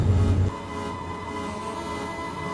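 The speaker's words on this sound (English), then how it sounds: "The 2:30 battery train, formerly a district line train in some past era." A GWR Class 230 battery train, a converted former District line unit, rolls in at a station bound for Greenford, with a steady low mechanical hum and drone after a brief louder rumble at the start.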